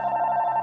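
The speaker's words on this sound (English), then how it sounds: "what was that? Phone call" A telephone rings in a short, steady, buzzy electronic tone that holds at an even level for under a second, with no talking.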